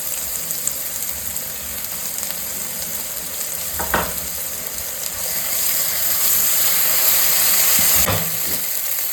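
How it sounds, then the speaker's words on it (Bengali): A paste of ginger, garlic, onion, cumin and green chili fries in oil in a pan with a steady, close crackling sizzle. Two sharp stirring scrapes cut through, and the sizzle swells a little toward the end. "আদা রসুন পেঁয়াজ সমস্ত কিছু ভালো করে ভেজে নিয়েছি"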